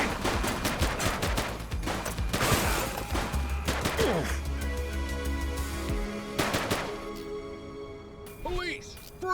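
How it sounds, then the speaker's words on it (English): Rapid bursts of automatic gunfire and scattered shots in a police shootout in the video game The Precinct, loud and dense at first, then thinning out as voices shout over the action. "He's shooting!"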